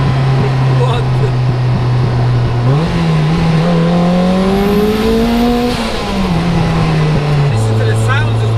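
A turbocharged 414bhp Lotus engine accelerates loudly from inside the car, its pitch climbing through the revs with rising turbo whine, then dropping back on a shift.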